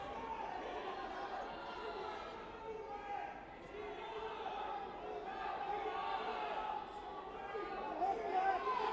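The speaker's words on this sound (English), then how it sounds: "the crowd's loud today" A loud, steady crowd roar fills a gym during a wrestling team dual meet, a continuous wash of cheering and chatter with no letup.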